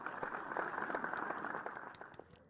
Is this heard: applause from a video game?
yes